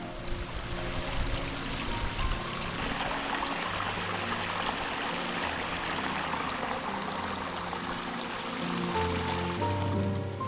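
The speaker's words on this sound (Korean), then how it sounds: "메마른 고지대에서도 떨어지는 물소리가" Water falls and trickles continuously beside a Jirisan mountain trail after recent rain and snow, a steady rushing wash of moderate loudness with no talk over it.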